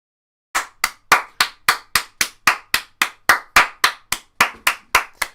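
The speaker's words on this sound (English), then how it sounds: "Round of applause for Shola" A lone person claps steadily and close by during a live Manchester United versus Newcastle United watch-along, marking a substitute coming on. About sixteen sharp, evenly spaced claps sound alone, with no talk.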